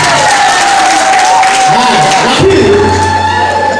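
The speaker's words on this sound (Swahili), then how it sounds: "Nipigie makofi" Crowd applause and cheering at a Tanzanian CCM political rally, a steady dense wash of clapping with whoops, loud and continuous throughout, with a held tone and voices mixed in.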